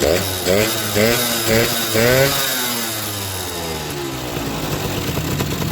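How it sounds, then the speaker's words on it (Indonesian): A Suzuki RC motorcycle engine revving hard in several quick throttle blips, each rising and falling in pitch, then settling into a steady rough idle, loud and close with no speech over it. "Nah, gas-gasannya terasa enteng dan meraung ya, karena pernapasannya plong ya teman-teman."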